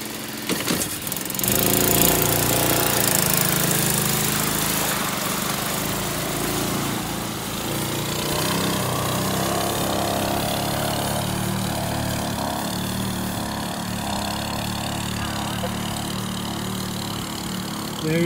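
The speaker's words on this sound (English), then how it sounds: "I'll turn the idle back up a little bit." An old beater quad ATV fitted with a snorkel kit idles close by, its rough, buzzy engine drone running steadily and loud throughout with no talk over it.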